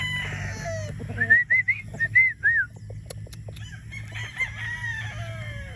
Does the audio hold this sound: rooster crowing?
yes